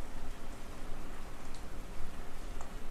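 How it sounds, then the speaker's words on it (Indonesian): Steady rain falls outside as a dense, even hiss with faint patters, continuous and fairly close, with no other sound over it. "Teman-teman bisa dengar ini hujan."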